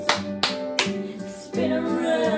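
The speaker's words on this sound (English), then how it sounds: "Clap your hands" Children clapping hands in a goodbye song at circle time: three sharp, evenly spaced claps close together, followed by a denser burst of clapping mixed with a sung melody.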